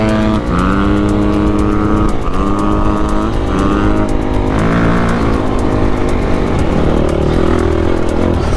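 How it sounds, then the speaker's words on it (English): A 250X dirt bike engine revs hard while ridden at Spangler Hills, a loud continuous buzzing roar with rising and falling pitch as the rider works through gears and throttle. "Dude, that's how you ride that bike."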